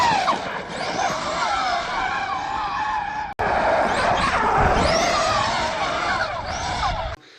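A Losi DBXLE 2.0 RC car with a Castle XLX2 system and 1100 kV sensored motor whines and screams as it drives, pitch sweeping up and down with acceleration, loud and continuous over two stretches separated by a brief cut.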